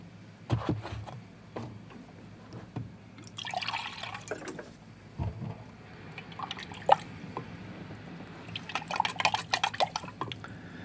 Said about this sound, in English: I'm going to get some fresh water in my water bucket